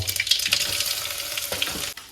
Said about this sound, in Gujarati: ભીંડા વઘારવાનું કામ તેલ રાય મરચાંનો મસાલો